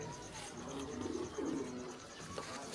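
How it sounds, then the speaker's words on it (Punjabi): A flying-breed pigeon coos softly in a few low, throaty phrases, fairly faint and close, with light background noise. "ਕਬੂਤਰ ਜਦੋਂ ਅੱਛਾ ਆਉਂਦਾ ਆਪ ਹੀ ਬੋਲ ਪੈਂਦਾ"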